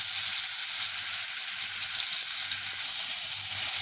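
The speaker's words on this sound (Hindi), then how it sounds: "1-2 मिनट सौते करेंगे इसको।" Garlic ginger paste sautés in two to three spoons of hot oil in a karahi for a mutton karahi. It makes a steady, close, bright sizzle and crackle throughout, with no talk over it.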